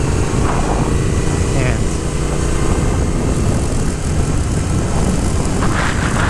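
A 2022 Triumph Speed Twin motorcycle engine running hard at full RPM on a country road, a loud, steady, unbroken roar with wind rush throughout, while a rider talks over it.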